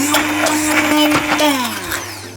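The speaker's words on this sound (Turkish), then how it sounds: "Şimdi 5 dakika blenderdan geçiriyoruz" A blender whirs loudly and continuously, its motor pitch wavering and dropping as it churns a thick, frozen homemade sour cherry ice cream mixture.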